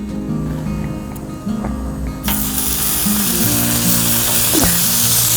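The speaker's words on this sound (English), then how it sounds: "I've got some bacon that we're going to cook up" Bacon laid on a heated Blackstone griddle breaks into a loud, close sizzle that swells suddenly partway through, over a low rumbling hum and a few soft clanks.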